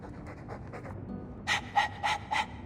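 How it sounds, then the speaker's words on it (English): A dog in the Dragon Age 2 video game pants in four loud, distinct breathy bursts, closer and clearer than the few fainter breaths that come before them. "All that noisy dog breath"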